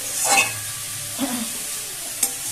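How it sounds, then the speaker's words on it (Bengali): A spoon stirs dudh puli filling in a pan over a lit gas stove, with soft scraping sweeps and a faint sizzle, plus a sharp scrape near the end. "এইভাবে নাড়তে থাকতে হবে"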